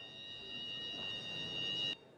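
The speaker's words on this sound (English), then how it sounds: "It's over Mark Davis as the alarm continues to go off." Electronic alarm in a snooker arena at the World Championship, a steady high-pitched tone that holds for about two seconds before cutting off abruptly, with a faint brief resumption at the end.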